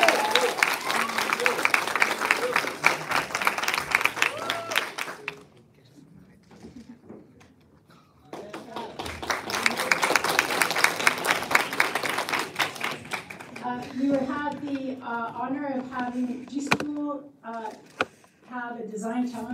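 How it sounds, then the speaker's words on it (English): Audience applause at a school showcase event, two bursts of dense clapping separated by a quiet gap, followed by a person speaking over fading claps. "please big round of applause for Peter"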